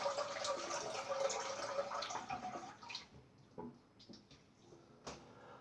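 Cold water splashed onto the face after a wet shave with a Parker SRX shavette razor, heard as close, steady splashing for about three seconds, then a few soft separate splashes and drips.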